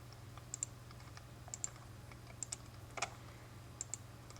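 Sparse, irregular keystrokes on a computer keyboard as a name is typed into Adobe Illustrator. The clicks are quiet and close, over a steady low electrical hum.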